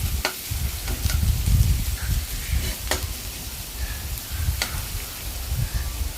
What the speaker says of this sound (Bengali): পেঁয়াজটা এখানে আমি অ্যাড করে দিলাম। তারপরে এটাকেও ভালোভাবে সটে করে নেব।